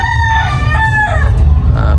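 A Boston Roundhead rooster crows loudly and close, a long drawn-out call with a falling tail, over steady low background rumble at a gamefowl expo.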